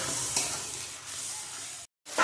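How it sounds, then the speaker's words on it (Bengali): Spice paste for muri ghonto sautés in a pan with a little water, giving a continuous loud hiss and sizzle with brief stirring scrapes and a short break in the sound. "জল দিয়ে ভালো করে মশলাটা কষিয়ে নিতে হবে"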